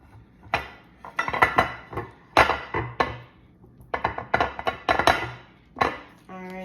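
A baking dish being buttered and handled, with repeated clinks, taps and knocks of ceramic and utensils on a counter, close and irregular, some louder clatters among softer scrapes.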